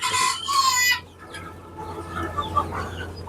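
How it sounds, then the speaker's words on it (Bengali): Large-breed chickens cluck and call close by on a farm, a loud burst at the start followed by softer, scattered clucks over a steady low hum. "দেখেন একসাথে কতগুলো মুরগি আছে"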